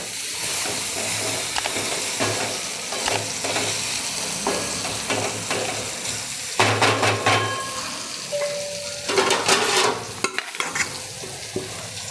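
Steady sizzling of eggplant frying in a pan, with a spoon scraping and stirring through it at intervals.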